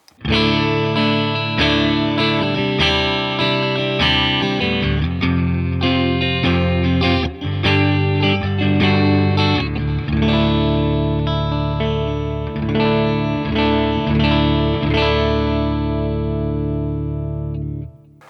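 An electric guitar through a Fender Tone Master Pro amp modeller plays distorted chords and riffs with a shimmering effect and amp-like tone, loud and continuous, ending on a long fading chord.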